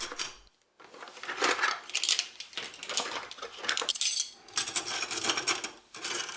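Stainless steel cutlery clinks and rattles together repeatedly, with bright jangling bursts and short pauses, close and fairly loud.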